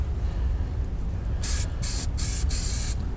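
Four short hissing bursts of rust treatment from a spray can onto a van's underbody, coming in quick succession over a steady background rumble.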